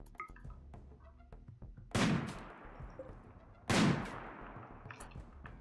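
Mini turrets open fire on raiders in RimWorld, two sharp loud bursts of gunfire with ringing tails, spaced a couple of seconds apart over faint background game sounds.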